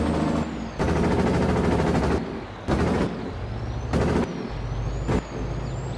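A truck's Jake brake in Farming Simulator 22 fires in loud staccato bursts, a rapid machine-gun-like rattle that starts and stops several times over a steady engine drone.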